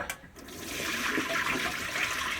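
Rinse water drains out of a pot of freshly washed rice through a strainer, a steady close splashing hiss that swells after a brief start and runs on evenly.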